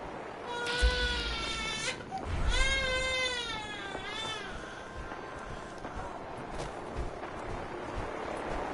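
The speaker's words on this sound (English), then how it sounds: "I don't know if you can also hear the crying." A baby cries inside a house, with a few wavering, high wails in the first half that fade into quieter background noise.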